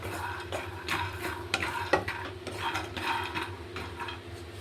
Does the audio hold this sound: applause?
no